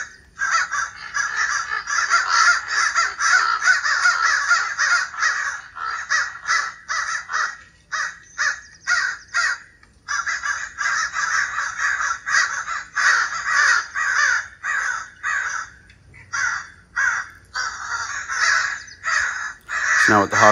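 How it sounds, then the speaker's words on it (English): Several crows caw loudly and excitedly at a hawk, giving repeated harsh calls in irregular bursts that overlap and carry on almost without pause. "the crows are calling in kind of a more agitated, excited tone, and there are multiple crows."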